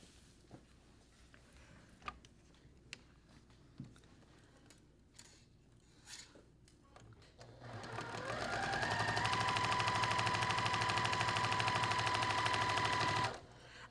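A sewing machine stitches quilt pieces in a steady, loud run that starts after several seconds of quiet handling clicks and lasts about six seconds before stopping abruptly.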